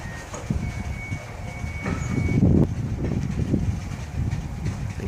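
BNSF coal train starting to move after its brakes are released, a close, low rumble with clanking and knocking from the wagons and a faint high squeal early on.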